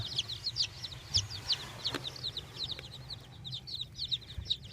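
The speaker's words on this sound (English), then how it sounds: "There's so many little chickies." Many baby chicks in a brooder give a steady stream of high, quick peeps and chirps at close range, with a faint low hum underneath.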